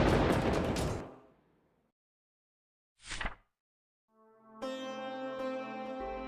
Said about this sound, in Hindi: आकाश में भयानक गड़गड़ाहट हुई।